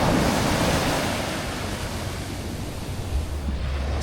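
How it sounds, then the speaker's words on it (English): Atlantic Ocean surf on the Florida coast rolls in a steady, loud wash of breaking waves, mixed with gusty wind buffeting the microphone throughout, with no voices. "We just touched the Atlantic Ocean"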